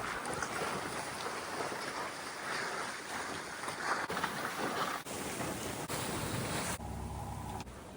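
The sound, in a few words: wind while sailing a sailboat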